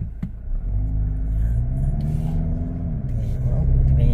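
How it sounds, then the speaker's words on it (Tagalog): A car with an automatic transmission in Drive accelerating hard to overtake, its engine drone rising with a smooth gear shift, heard steadily from inside the cabin. "Overtake ako, diniinan ko na maigi, walang ka jerking mga katropa, shifting agad"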